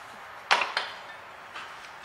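Hammer blows on a brake disc of a Renault Master van in a garage: two sharp metallic strikes close together, then fainter knocks after a pause, with no talk.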